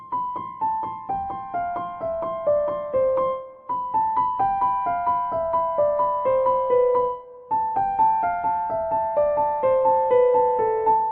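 Easy beginner piano song played a little quickly with the sustain pedal held, a steady stream of ringing notes in repeating descending phrases with two brief pauses, close and clear, no voices.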